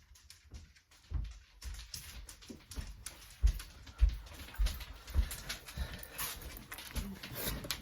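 Restless dogs make faint sounds nearby, with soft thumps, scuffling and the occasional louder knock scattered irregularly over a quiet room tone. No one speaks.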